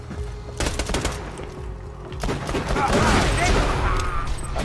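Rapid, repeated pistol fire in Borderlands 2, a dense run of gunshots filling the scene with constant shooting alongside game noise, loud and close throughout.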